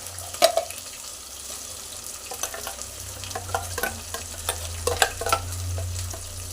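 Ground tomato, coconut and mint paste fries in a hot pan for chicken curry, a steady close sizzle with scraping stir strokes and occasional louder clatters throughout, no voices.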